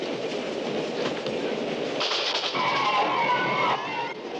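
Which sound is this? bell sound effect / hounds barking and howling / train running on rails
train running on rails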